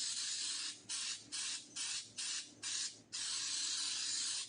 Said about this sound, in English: I'm going to spray these with some cooking spray.